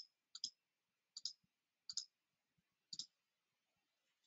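Computer mouse clicks during a software demo: crisp, close double-clicks repeated roughly once a second against near silence, with no speech.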